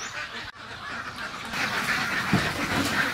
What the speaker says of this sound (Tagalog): nandito tayo sa kulungan ng mga itik